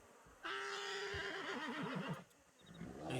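A horse gives a single loud, close whinny with a wavering pitch that lasts well over a second, in the video game Red Dead Redemption 2 on a WildRP roleplay server, with faint background sound after it.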